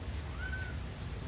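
Bagheera, a pet cat keeping watch in a home kitchen, gives a single drawn-out meow at moderate distance over steady low background hum from the cooking.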